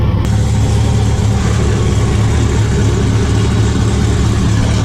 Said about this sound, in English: Pro2 guys running a 4-cylinder.